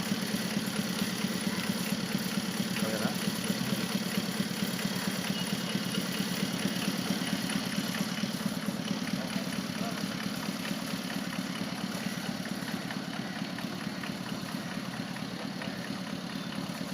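A vehicle engine idles steadily and evenly at close range for the whole stretch, with a low continuous rumble and faint background voices.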